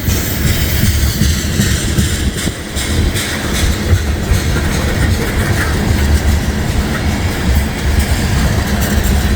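An ethanol freight train rolls past on the rails with a steady, loud, continuous rumble and rhythmic clickety-clack of wheels over joints, close by and with no one speaking.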